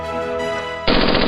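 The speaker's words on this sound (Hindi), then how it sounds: "फिर बिल्कुल यूं ही खुशियों में हवाई फायरिंग करने वाले ये जराइम पेशा नासिर आखिरकार कानून की निगाहों में आ गए" Celebratory aerial gunfire in a crime drama from Punjab, Pakistan: a sustained tonal background breaks at the end into a loud, dense burst of shots, like a rapid automatic volley close by.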